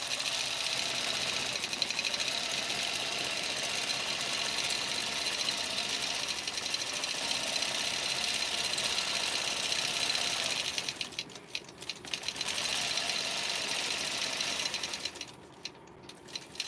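A quilting machine sewing tacking stitches across a quilt, a steady close mechanical whir and rapid needle chatter running continuously, briefly dipping twice as it pauses.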